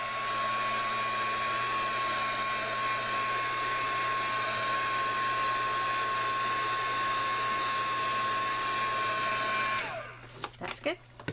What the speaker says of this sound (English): you can use your heat gun if you would like, which I'm going to do since I'm doing a video